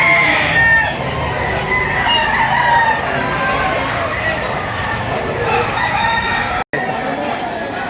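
Fighting cocks at a gamefowl breeding yard, roosters crowing repeatedly and clucking close by, overlapping calls filling the scene with steady farmyard noise.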